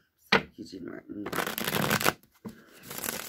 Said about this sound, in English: I'm going to shuffle the Deviant Moon deck now.